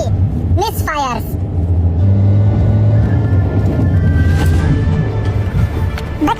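A Volkswagen engine runs at low RPM under full throttle while misfiring on cylinders 2 and 3, giving a steady, uneven, close rumble, with someone talking over it.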